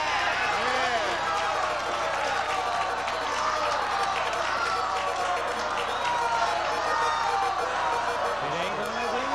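Studio audience at the Match Game bonus round cheering and clapping as the contestant spins the wheel, a dense, continuous roar of voices and applause, with whoops riding over it.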